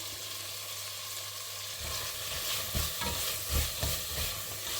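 Chickpeas stirred into a thick chana masala gravy sizzling in a pan, a steady frying hiss with rhythmic scraping stir strokes growing louder in the second half, no talking.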